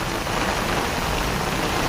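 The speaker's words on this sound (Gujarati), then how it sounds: "અતિ ભારે વરસાદ મિત્રો અચાનક ચાલુ થઈ ગયો" Loud, dense downpour hissing steadily without a break, a heavy rain close by drowning everything else.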